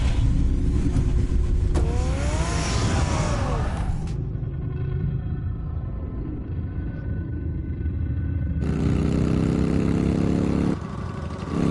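Batmobile from the Telltale Batman video game idling with a heavy low rumble, swelling into a rising rev before settling, then a second loud surge of engine roar near the end.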